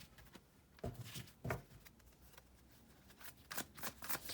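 Tarot cards shuffled by hand and a card drawn, with several crisp riffling bursts and softer rustles spread across a few seconds, close and fairly quiet.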